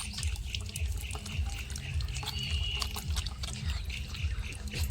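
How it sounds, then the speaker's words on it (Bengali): Running water pours and splashes steadily close by as hands and feet are washed with soap, with continuous trickling and dribbling throughout. "এখন হাত পা ভালো করে ধুয়ে নেবো সাবান দিচ্ছি"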